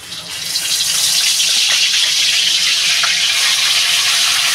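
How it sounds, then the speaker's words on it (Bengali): Hilsa fish goes into hot oil and sets off a loud, close sizzle that swells within the first half second. The hissing then holds steady and unbroken. "তেলটা বন্ধুরা গরম হয়ে গেছে, আমি এই মাছটা দিয়ে দেবো।"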